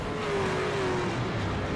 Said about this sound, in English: Pacing the field behind the pace car.